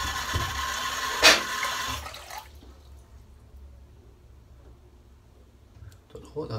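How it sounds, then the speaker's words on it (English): Water from a tap runs into a bowl in a sink for about two seconds with a brief louder splash, then stops, leaving quiet room sound and a faint voice near the end. "So I'm just going to add a bit of water in my bowl,"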